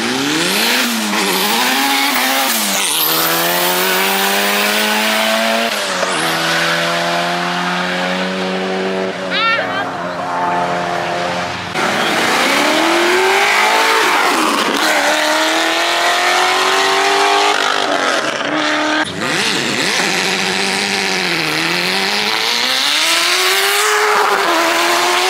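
A black C4 Corvette race car revs and accelerates loudly and close for a long stretch, its engine pitch rising and falling through repeated gear changes with tire noise, while people talk over it.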